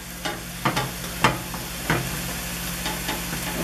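Spinach wilts and sizzles in a small skillet, a steady soft hiss broken by several distinct scraping stirs and clacks of a utensil against the pan.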